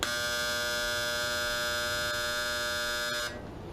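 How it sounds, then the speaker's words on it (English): A clothes dryer buzzer holds one long, loud electronic tone for about three seconds, then cuts off abruptly, leaving faint background noise. "That's when the dryer will do a longer buzzing sound that kind of sounds like this."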